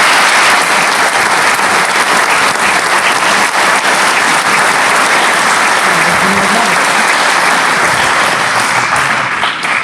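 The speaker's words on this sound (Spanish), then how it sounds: "quiero darle ahora mismo un aplauso" Sustained, loud audience applause fills a round-table session on the student movement at the University of Valladolid, dense clapping continuing steadily throughout with no break.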